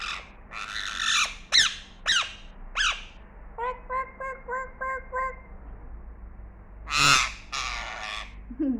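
A parrot gives a run of loud, harsh squawks, then a rhythmic series of repeated whistled notes, then more squawks, close and clear against a quiet room.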